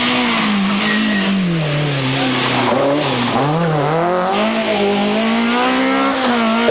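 A BMW M3 E30 Group A rally car races along a rally stage, its engine loud and near as it revs up and down through gear changes, rising and falling in pitch.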